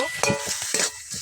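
Greens and spices are stirred in a frying pan, four or five quick scraping strokes over a soft sizzle, close and alone.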